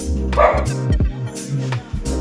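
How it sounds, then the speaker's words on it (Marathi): A dog barks loudly and close by in a quick run of sharp, repeated barks with short gaps between them. "रॉकी बुकत आहे कुत्र्यांना बघू शकता"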